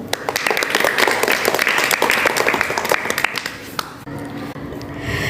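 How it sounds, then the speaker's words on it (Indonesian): A school class audience applauds loudly with dense, sustained clapping that fades out after about four seconds, leaving a quieter room. "Sekali lagi beri tepuk tangan kepada beliau."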